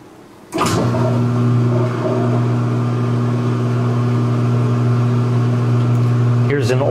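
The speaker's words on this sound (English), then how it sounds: "the machine spinning, because I know this is a very bassy portion of the program" A washing machine, loaded with sudsy laundry, starts spinning with a sudden loud onset. It settles into a steady, deep, bassy hum with strong low tones and a faint clatter, and runs on continuously as a close, loud drone.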